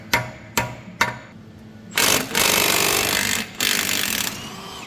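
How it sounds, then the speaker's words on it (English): Three sharp hammer strikes ring out in a slow rhythm as parts are driven into a BMW E28's rear end, followed by a loud sustained grinding, rattling burst of machinery. "I'm gonna be safe and just hammer these all in."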